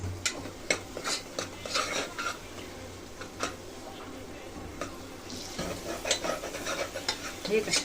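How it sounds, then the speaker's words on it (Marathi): Ground masala paste fries in a pan for a Kurma bhaji, giving a continuous low sizzle broken by repeated scraping stir strokes, close up and moderately loud, with no voices. "फक्त आता आपल्याला हे खूप छान फ्राय करायचं आहे"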